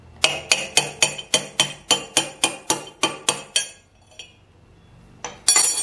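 Metal hammer taps ringing off a cast iron shaper part being knocked loose during weld repair: about a dozen sharp, evenly spaced clinking strikes, then a pause with a faint tap and two more hits at the end.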